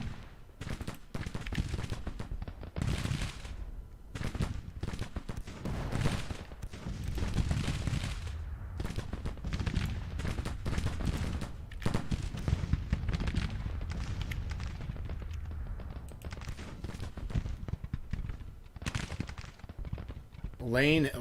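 Civil War battle sounds in Grand Tactician at Gettysburg: continuous scattered musket volleys and booming artillery, a dense rumbling fusillade at mid distance running throughout, with someone talking over it.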